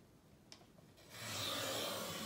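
Mat board being cut for a Christmas folio: after a faint tap, a close, steady scraping cut swells in and continues for about a second, with no talk.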